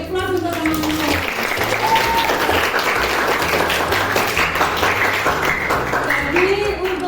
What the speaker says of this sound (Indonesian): beri aplaus untuk teman-teman.